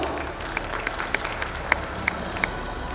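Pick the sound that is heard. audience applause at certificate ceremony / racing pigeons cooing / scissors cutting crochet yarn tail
audience applause at certificate ceremony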